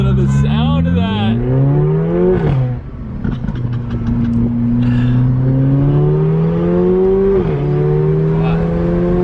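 A loud, close Mercedes CLA45 engine revs repeatedly on the street, pitch climbing and dropping through gear changes, with a raspy exhaust note and some voices talking underneath.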